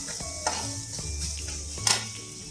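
Spiced cauliflower sautéing in a pan, a steady sizzle with spatula stirring scrapes and a couple of sharper knocks against the metal, close and continuous with no voices.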